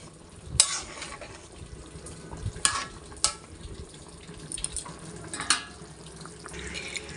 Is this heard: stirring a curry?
yes